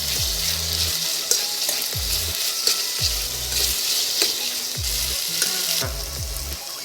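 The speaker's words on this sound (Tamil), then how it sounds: "இப்போ அதையும் சேர்த்து நல்லா வதக்கி விடுங்க." Tomatoes added to onions sautéing in a pan for chicken gravy on an induction stove give off a steady, bright sizzle, broken by repeated stirring scrapes at regular intervals; the sound is close-up, with no talking.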